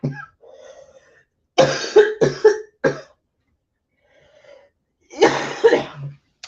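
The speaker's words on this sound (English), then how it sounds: "I've had a dry cough for so long." Several dry coughs come in two bursts, a cluster of three or four hacks, a pause, then two more, close and loud in a quiet room.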